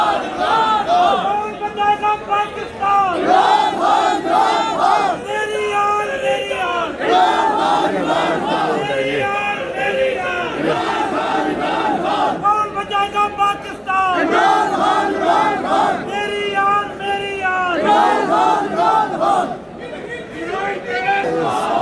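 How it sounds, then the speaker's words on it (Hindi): A large crowd chants political slogans loudly inside a high court in Pakistan, in rhythmic bursts, voices overlapping and sustained throughout, with brief dips between chants. "सियासी नारेबाजी हो रही है, तो ये नारे आप लोग सुन रहे हैं सारे"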